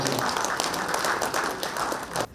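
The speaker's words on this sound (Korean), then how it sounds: "힘찬 박수" Loud, dense clapping from an audience at a Korean high school centennial ceremony runs steadily for about two seconds and stops abruptly.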